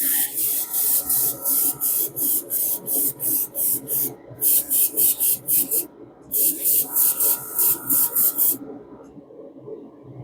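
Repeated short bursts from a spray can coat a 1/64-scale John Deere farm toy tractor, forming a quick, regular rhythm of hissing puffs close to the mic, with brief pauses between runs.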